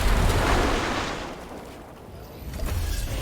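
Grenade blasts in the Fortnite battle royale game, a loud rumbling burst of explosion noise that fades and then swells again near the end, with no talking.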